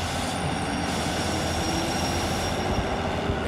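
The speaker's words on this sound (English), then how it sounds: "All right, let's put it in reverse. We're gonna back away from this train." Steam locomotive in the Derail Valley railway simulator reverses, with a steady rolling rumble of wheels on track and faint squeal, continuous and fairly close with no pauses.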